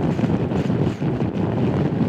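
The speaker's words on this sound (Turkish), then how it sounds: "Rüzgar çok fena." Heavy wind roars steadily against the microphone with a low rumble, loud and close, while riding at speed on a Honda Forza 250 motorcycle on a long road trip.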